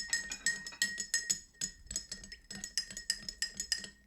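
Rapid metallic clinking of a bar spoon against a glass while a purple non-alcoholic Bee's Knees mocktail is stirred, a steady rhythmic tinkling with no talk.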